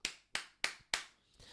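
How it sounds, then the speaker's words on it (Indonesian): Four evenly spaced sharp claps ring out in a slow, steady rhythm during a morning prayer service, crisp and fairly faint, followed by a softer trailing tap. "Berikan tepuk tangan yang meriah buat Allah kita."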